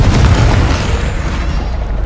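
A Confringo fire spell explodes in a video game, a loud, deep, rumbling boom that stays dense and sustained for about two seconds with no clear pauses.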